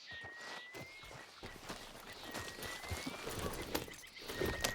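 Horse hooves clip-clopping in the video game Red Dead Redemption 2, a steady walking rhythm of light thuds repeating throughout, moderately close, with faint ambient tones and no talk.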